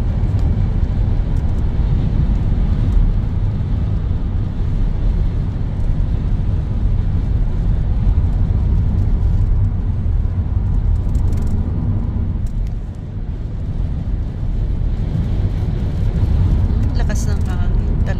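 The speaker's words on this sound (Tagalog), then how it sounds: "Ganito, guys, pag mahangin dito, ang lakas." Strong wind buffets a moving car on a downhill road, a dense steady roar and rumble inside the cabin that dips briefly before surging back, with people talking over it.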